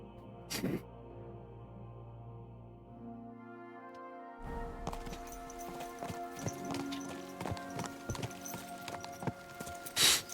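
Horses' hooves clip-clop in the video game Kingdom Come Deliverance 2, starting partway through as a fast, steady run of hoofbeats after a quieter tonal stretch, with a brief sharp sound at the end.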